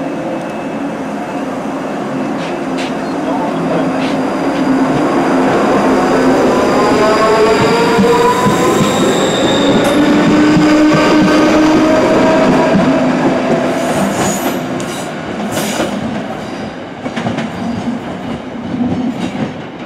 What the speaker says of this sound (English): This train is for Rugeley.